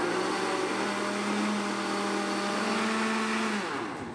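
A kitchen blender whirs steadily as it beats a sugary pudding mixture, a loud, close, continuous motor drone with a sustained hum that slows and drops in pitch near the end.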